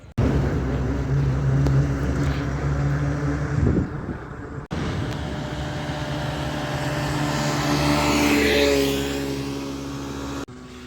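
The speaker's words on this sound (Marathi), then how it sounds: "आता बघ या हायसून विमान उडताना किंवा एखादा विमान येला तर त्या तुमकां दाखवत आहे" A steady engine drone of an airplane passing overhead near Mopa Airport in Goa, swelling gradually and then fading, with no talking.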